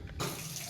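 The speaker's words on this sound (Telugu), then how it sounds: "ఇప్పుడు ముఖం కడిగాను" Tap water runs steadily into a sink during face washing, a broad rushing splash that switches on abruptly partway through and continues close and alone.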